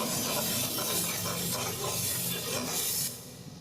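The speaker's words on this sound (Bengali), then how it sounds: "চিংড়িগুলোকে হালকা লাল করে ভেজে নিতে হবে।" Prawns frying in hot oil in a pan for a Bengali lau chingri dish, a steady loud broadband sizzle and hiss that runs throughout and softens slightly near the end.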